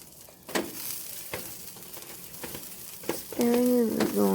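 Asparagus goes into a pan of chicken with a few clattering drops and stirs, then a fresh burst of close sizzling near the end. A voice talks briefly.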